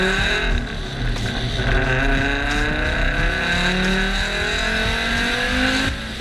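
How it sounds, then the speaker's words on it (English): Loud, steady roar of a freshly rebuilt engine heard from inside the car cabin, droning continuously with slight shifts in pitch as it runs. "first thing you notice when you start the car is the noise. It's deafening."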